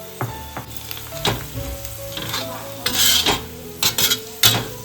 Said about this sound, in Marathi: इकडे ना सर्व जवळा धुवून घेतलेला आहे, तो आता ह्याच्यामध्ये ऍड करून घेतोय.